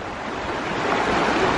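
River water rushing steadily at a jungle crossing with a hand cable, on the way to a hidden waterfall; a loud, continuous broadband wash with no talk.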